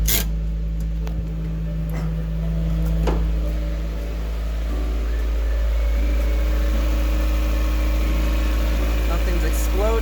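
A turbocharged Mazda Miata engine fires up for the first time and settles into a steady, loud idle with a low continuous drone, running close by and alone.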